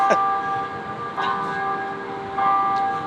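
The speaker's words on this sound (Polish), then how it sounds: "Asystent, weź sprawdź ile dzwony biją w Warszawie" Church bells in Warsaw strike in three spaced, ringing peals that linger between strokes, heard from a moderate distance over steady background noise.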